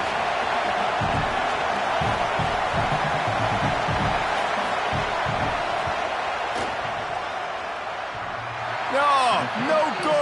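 Football stadium crowd during a field goal attempt, a broad, sustained roar of many voices that swells and holds, with a commentator's voice briefly heard near the end.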